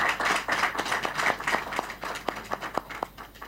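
A small council assembly applauds the election of its new president by acclamation, with scattered individual claps close by that start dense and thin into distinct, slowing hand claps.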